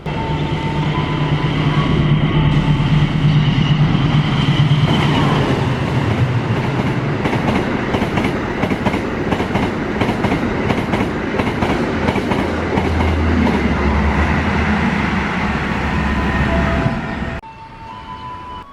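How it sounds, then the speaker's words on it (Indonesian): Two passenger trains passing each other at high speed at a station on an Indonesian railway, a loud close rumbling roar with rapid clickety-clack of wheels over rail joints, fading off abruptly near the end. "jarak antara kedua kereta dapat saling berdekatan dan keduanya dapat stabil melaju kecepatan tinggi"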